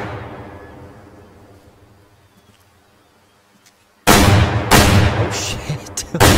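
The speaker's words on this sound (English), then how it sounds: "I don't know what he was, but I'm shooting him." A hunting rifle fires in the video game Way of the Hunter, one sudden loud blast after a quiet stretch of ambience, followed by a few more sharp booming reports and echoes.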